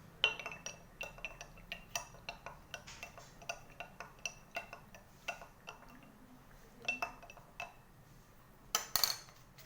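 Liquids being stirred and mixed in a glass, with a run of small, quiet clinks and taps against the glass that come in irregular bursts. The stirring is close, faint and continuous, with no voice over it.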